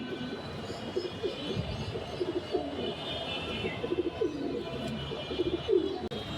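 Racing pigeons coo softly in short repeated bursts, a low bubbling call that comes and goes over steady background noise, with a few faint chirps mixed in.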